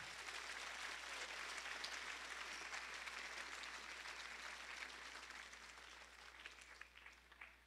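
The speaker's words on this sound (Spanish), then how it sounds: "Dale un fuerte aplauso al Señor" A church congregation gives steady, sustained applause at a Catholic Mass, a dense wash of many hands that sounds moderately distant and holds even before fading slightly near the end.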